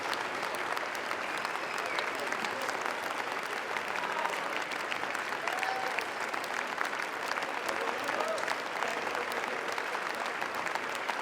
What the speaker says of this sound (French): encore des applaudissements pour Marco Bellocchio